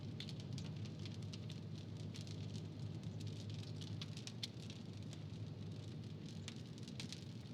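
Rain pattering on a vehicle while driving on a road in Bengal after a heavy storm, a steady dense patter of drops with sharp ticks over a low road rumble.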